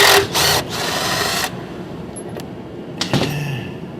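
Power tool or ratchet removing a bolt from a TH350 Turbo 350 automatic transmission during a swap, with two loud buzzing runs near the start and a shorter burst near the end, close by and alone.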